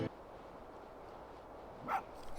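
A spirit fox in the video game Spirit of the North lets out one short bark near the end, rising briefly above a faint, quiet ambient background.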